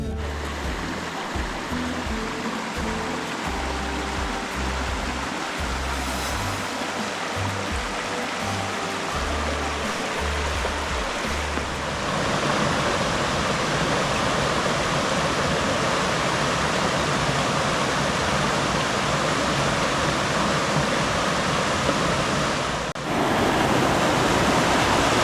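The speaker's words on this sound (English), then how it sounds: "It is always cascading from Tobeatic Lake through the short passage to Little Tupper Lake." Loud, steady rush of Little Tupper Brook cascading over rocky rapids between Tobeatic Lake and Little Tupper Lake in the Nova Scotia wilderness, high water in October, with a brief clunky low-frequency knocking early on.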